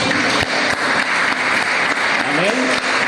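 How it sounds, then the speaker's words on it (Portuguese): A church congregation applauds in one loud, dense, steady wave of clapping that fills the room for a few seconds. "Quantos podem aplaudir ao Senhor por isso"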